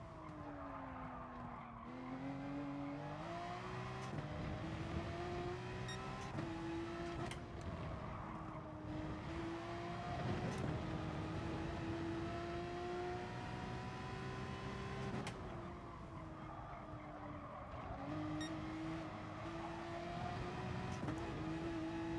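A Porsche race car in Gran Turismo Sport roars through gears around a track, engine pitch rising and falling with repeated tire squeals through corners, loud and continuous with no talk.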